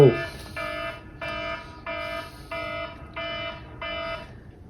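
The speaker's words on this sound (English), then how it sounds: "The timer is really aggressive, and it hurts the ears." A loud timer alarm beeps in six evenly spaced electronic bursts, each holding a harsh steady tone, repeating alone with no talking over it.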